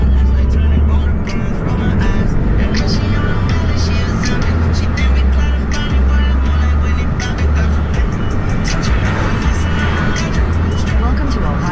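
A Mercedes 190E cruising steadily along back roads at about 55 mph on premium gas, with a loud, constant engine drone and road and wind rumble from inside the cabin, under a voice.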